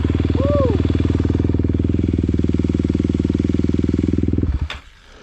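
An enduro motorcycle engine idles close by with a steady, rapid thumping putter, then shuts off near the end, and a short voice-like whoop rises briefly over it.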